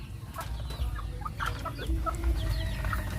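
Rhode Island Red chickens cluck steadily while being fed coconut pulp, vegetables and a little feed in a backyard flock, several birds calling close by over constant low yard noise.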